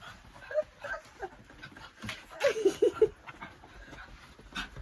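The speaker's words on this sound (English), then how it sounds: "Grumbly dogs." Two dogs grumble and whimper nearby, with soft intermittent whines and a short run of higher yips in the middle, over quiet room noise.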